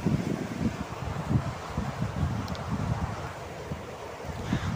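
Heavy rain falls in Cebu, a steady, dense wash of broadband hiss that stays even throughout with no voices.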